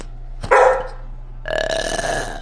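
Dog barks indoors at close range, a short sharp bark followed by a longer, louder sustained bark-howl a second later.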